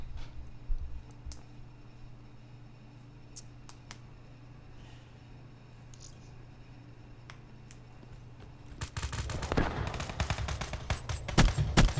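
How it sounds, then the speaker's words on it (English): Dingo light machine gun firing in Call of Duty Black Ops 3: a dense rapid burst of automatic fire erupts near the end, following quieter scattered game sounds. "Dingo is a large machine gun"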